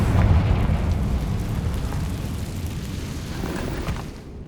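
A Confringo fire spell explodes in Hogwarts Legacy on PS5 with a loud, deep, rumbling blast that swells at once and then slowly fades over several seconds, standing alone with no talk.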